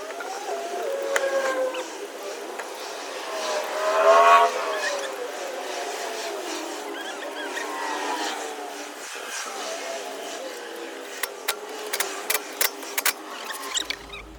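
A supercharged Whipple S650 Mustang GT drives around the block with a steady road rumble and engine drone, tires squealing faintly midway, then a few sharp clicks and knocks toward the end.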